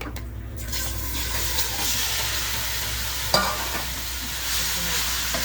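Elephant apple pieces with panch phoron sizzle and fry steadily in a pan while a spoon stirs them, close and continuous, with one sharp scrape of utensil on the pan.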